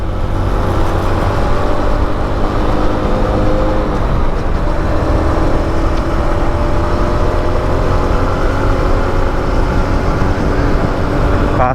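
A Suzuki Smash motorcycle accelerates hard on a busy road during a top-speed run, with a steady, loud engine drone and road noise holding throughout, and traffic around it.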